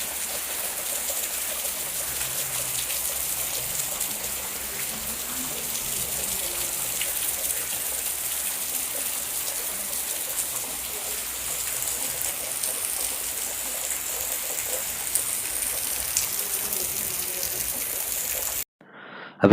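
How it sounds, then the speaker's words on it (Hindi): Heavy rain pours steadily near a Jagannath temple in Jajpur, a dense continuous hiss with no pauses for nearly twenty seconds before cutting off abruptly. "अभी के लिए बारिश बहुत तेज़ी से हो रहा है,"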